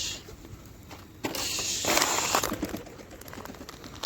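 Pigeons settle onto a loft outdoors, a burst of wing flaps and shuffling followed by soft cooing, moderately close against steady background hiss.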